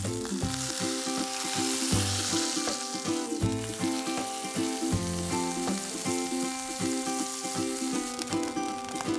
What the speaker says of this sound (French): Et vous pouvez mettre votre viande. Ça doit grésiller comme ça.